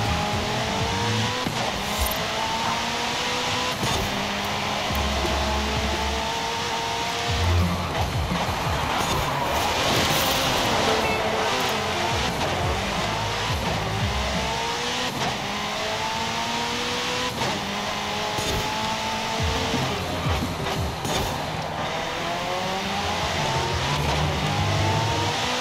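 A race car in Forza Horizon 5 on Xbox Series X bouncing and crashing into obstacles, engine revving up and down in repeated rising sweeps with tire squeals and thuds, loud throughout.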